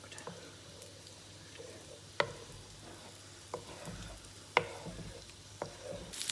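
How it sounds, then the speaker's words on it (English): Scrambled eggs cook in butter in a pan with a faint, steady sizzle, broken by a few sharp scraping clicks as a utensil works across the pan surface. "So eggs are in, and then I just start scraping up the bits that are cooked."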